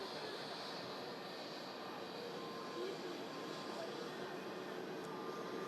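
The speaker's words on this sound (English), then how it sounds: "There's the Oslo-bound SAS Neo, Scandinavian there, carries out the pre-flight hydraulic checks" An SAS Airbus A320neo at Manchester Airport runs pre-flight hydraulic checks, a faint, steady distant jet whine and hiss continuing evenly, with no talk over it.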